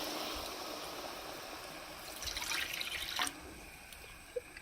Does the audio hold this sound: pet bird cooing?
no